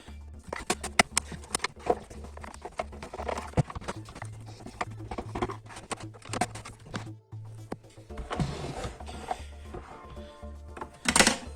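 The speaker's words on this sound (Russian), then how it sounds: "Эти все раскрутил." Screws being undone by hand while a vacuum cleaner is taken apart, heard as scattered close clicks, taps and plastic rattles over a steady low hum, with a denser scraping rustle near the end.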